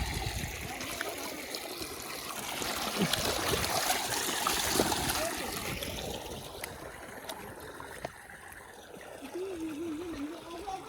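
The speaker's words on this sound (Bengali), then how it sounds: "জল কি স্পিডে চলে যাচ্ছে বন্ধুরা দেখতেই পাচ্ছ অনেক স্পিডে জল যাচ্ছে" Pond water rushes out fast where fish are being caught with a net, a steady gushing and splashing flow that swells in the middle and then eases slightly.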